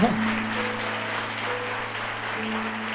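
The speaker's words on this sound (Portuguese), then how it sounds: "Aplauda aí ao Senhor." Steady applause from a church congregation fills the space, a dense continuous clatter of clapping over a low sustained hum.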